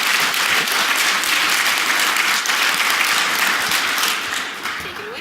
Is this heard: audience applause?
yes